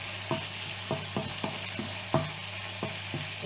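Lardons for tartiflette brown in a pan with a steady close sizzle, punctuated by a series of crisp pops and spits at irregular intervals.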